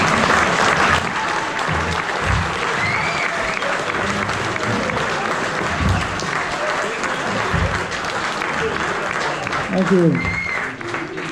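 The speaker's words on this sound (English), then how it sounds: "applause." A crowd at a Harley Owners Group chapter's 25-year party in Gothenburg, Sweden, applauds steadily, a broad sustained patter of many hands under murmuring voices, with a brief spoken thanks near the end.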